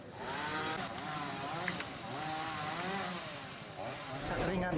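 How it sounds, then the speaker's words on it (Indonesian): Chainsaw cutting through the trunk of an old, rotted mahogany tree toppled by strong wind and heavy rain onto a parked car, a steady droning engine whine running continuously with people talking over it. "untuk menyingkirkan pohon dengan memotong bagian batang pohon untuk memudahkan evakuasi mobil."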